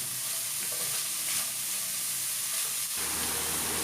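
Ground beef and carrots fry in a pan with a loud, steady sizzle and hiss, stirred now and then, close and continuous with no talking.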